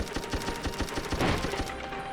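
Gunfire in a video game: a rapid burst of about a dozen evenly spaced shots fired at a crate, close and punchy, tailing off near the end.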